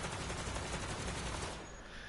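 Rapid, dense gunfire crackles continuously for about two seconds, loud and harsh, like sustained automatic shooting in Borderlands 3.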